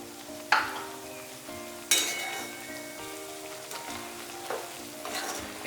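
Rajgira (amaranth) flour roasts in hot ghee with a soft, steady sizzle, broken by a few sharp scraping strokes of stirring close at hand; no one speaks.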